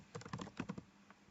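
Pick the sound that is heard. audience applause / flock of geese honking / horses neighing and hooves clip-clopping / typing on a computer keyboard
typing on a computer keyboard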